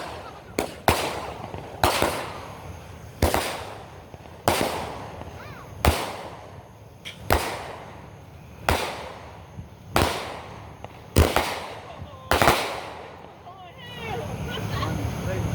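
Backyard fireworks at a fireworks competition bang loudly in a regular series of about a dozen sharp blasts, roughly one every second or so, each trailing off in crackle, with voices faintly in between.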